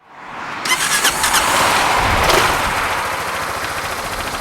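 Kymco Downtown 300i scooter fitted with a large Delkevic exhaust: the engine starts abruptly, then settles into a loud, close, steady burbling idle with a few quick pulses early on.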